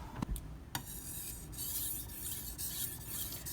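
A Karaku AS Gyuto 210mm kitchen knife scrapes across a whetstone in repeated rasping strokes at about 18 degrees, close and fairly quiet, with a few sharper taps at the start.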